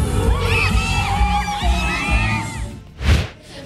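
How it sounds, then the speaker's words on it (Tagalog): Fans at a Kapuso mall show cheering and shrieking, a dense crowd roar with high excited shouts and whoops, and a louder surge near the end. "ramdam na ramdaman ko yung mga hiyawan nila, yung energy nila"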